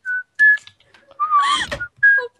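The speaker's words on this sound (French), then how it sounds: "je sais ce que t'es en train de siffler" A person whistles a short melodic tune in clear, bright phrases with pauses between them, during Minecraft play; bursts of a voice or other sounds break in midway.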